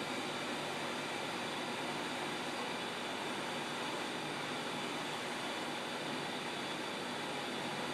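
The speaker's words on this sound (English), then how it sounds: "Mom's still running the vacuum cleaner. An awful lot of noise." A constant broad roar of a vacuum cleaner running in another room drones steadily throughout, muffled and unchanging, with no other sounds.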